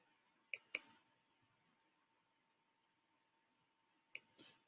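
A computer mouse gives two quick double clicks, sharp and close, separated by a few seconds of near silence.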